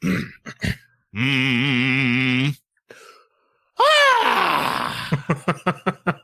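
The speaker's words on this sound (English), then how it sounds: "That was my yawn." A person's loud, drawn-out vocal yawn during a breathing exercise for public speaking, a rising strained groan that sweeps down and tails off into short breathy huffs, following a brief hum, alone with no talk.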